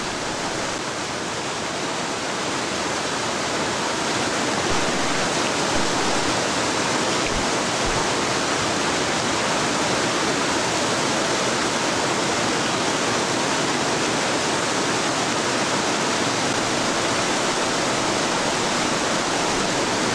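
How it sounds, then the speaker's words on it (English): Steady loud rain in the survival game Escape The Pacific, a dense continuous hiss of downpour that stays even and close throughout with no other sounds. "Oh, rain, that weather's noisy."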